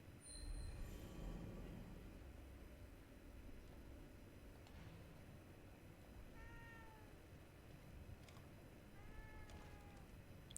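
A cat meows a few times in The Evil Within 2, faint and thin against a dense rumbling, rattling game ambience that fills the background.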